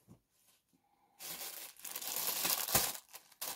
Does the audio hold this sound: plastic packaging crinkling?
yes